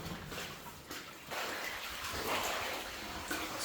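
Sloshing and splashing of someone wading through deep water inside a flooded 1890s copper mine, steady churning wash close to the microphone with no talk.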